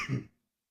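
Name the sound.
cough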